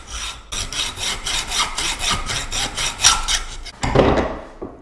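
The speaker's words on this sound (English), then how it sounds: "take a hacksaw and split the nut right the way through to the inside" A hacksaw cuts through a steel nut clamped in a vise. Close, loud, rhythmic rasping strokes run back and forth about twice a second and stop briefly before a final scrape.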